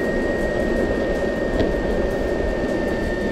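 A DIY electric skateboard motor at full throttle, a steady broadband whirring rush with a thin high whine held throughout, continuous and fairly loud, with no voices.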